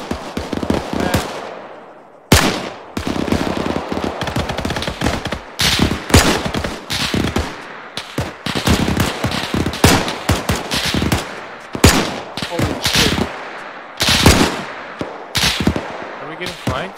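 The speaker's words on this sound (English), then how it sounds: "there's an MG42 up the hill to our east" Rapid bursts of MG42 machine gun fire in the WW2 setting of the video game Arma 3, loud, dense volleys repeating across the whole stretch with brief gaps between bursts, mixed with other gunfire and some voice chatter.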